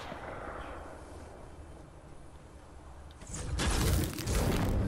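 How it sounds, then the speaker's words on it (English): Video game gunfire rings out at a distance, with faint shots giving way to a louder, rapid burst of firing near the end. "Somebody shooting at me?"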